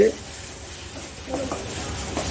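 Chili powder and spices are being sautéed in oil for a mustard-paste katla fish kalia, with a steady close sizzle and soft stirring scrapes, while a voice talks over the cooking.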